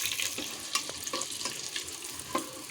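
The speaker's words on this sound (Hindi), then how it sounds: "इसको हम अच्छी तरह से थोड़ा सा फ्राई कर लेंगे।" Masala-coated eggs sizzle and spit steadily in hot oil, with a constant bright frying hiss and a few sharper crackles and stirring clinks close by; no talking.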